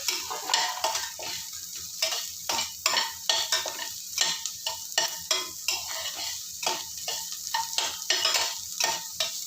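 Ginger, onion, green chili and curry leaves sautéing in ghee, sizzling steadily while a spoon scrapes and stirs the pan in quick repeated strokes, close and loud with no talking.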